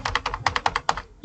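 Rapid clicking of computer keyboard keys while typing in a Word document, a close run of about a dozen quick taps ending with a soft thump.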